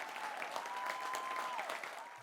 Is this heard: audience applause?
yes